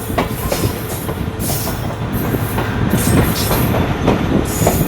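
Khushhal Khan Khattak Express passenger train running on the ML2 track toward Habibkot station, with steady loud rumble and rhythmic clickety-clack of wheels over rail joints throughout.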